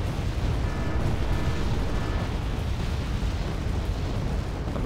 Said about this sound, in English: Here starts the rocket artillery.